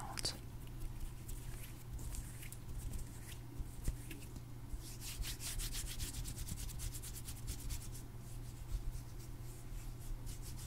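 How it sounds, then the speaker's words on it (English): Hands rub together for ASMR, a soft, close, dry swishing that comes in a brisk rhythmic stretch in the middle, over a low steady hum. "I'm just gonna help you guys relax with some hand sounds"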